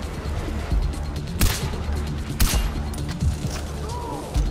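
Gunshots in Far Cry 4 crack out as a few sharp, loud reports spaced a second or so apart, with two standing out, over a busy game backdrop of ambient rumble and clatter.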